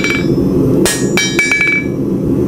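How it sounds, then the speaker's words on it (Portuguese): A hand tool is hammered to punch a stud hole in a horseshoe, with several loud ringing metallic strikes. The blows come close together in an uneven burst, close and unaccompanied by speech. "Agora aqui nós vamos fazer furo para rampão. Furo para rampão a gente usa essa ferramenta."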